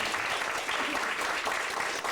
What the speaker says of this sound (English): This clap for the Great Improvement